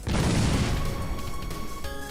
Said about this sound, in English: We have to fight back. This cannon should be ready to go.